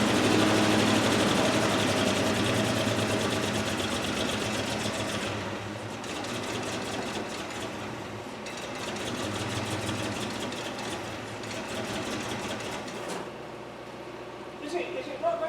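A 1969 Land Rover Series 2a six-cylinder engine idles close by in a workshop, a steady rapid mechanical chatter that eases and swells slightly over time, with voices talking over it.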